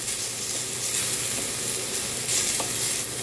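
Food browning in a pan over a low fire, a dense steady sizzle and crackle close by with occasional light stirring, no voices.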